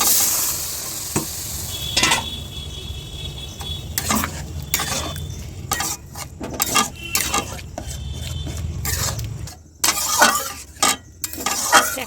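Tarka spice masala is stirred in a frying pan with loud metal scraping and clinking, over a low hiss of frying oil. The bursts of stirring come in irregular bursts, with no one talking.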